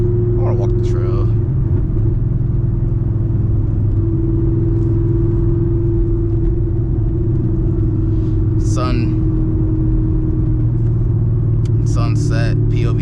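A manual 900-horsepower Camaro ZL1 on a sunset drive, its engine a steady deep rumble heard from inside the car, loud and constant, with a few brief voices or sounds now and then.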